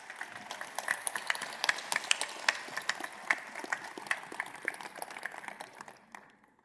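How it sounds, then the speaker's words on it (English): Convention hall audience applauding sponsors at a Young Farmers & Ranchers discussion meet, a dense spatter of claps holding steady for several seconds, then thinning and fading out. "Please join me in a round of applause to show our appreciation to our outstanding sponsors."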